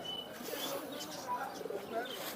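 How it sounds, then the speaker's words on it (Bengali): Tumbler fancy pigeons coo softly at a large pigeon market in Khalishpur, Khulna, their faint low calls mixed with chirps beneath nearby voices in a busy, distant-sounding space. "টামলার কবুতর"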